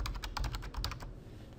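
A password typed on a computer keyboard to log in to a bank demo site: a quick, steady run of close, crisp keystrokes that stops partway, leaving a low background hum.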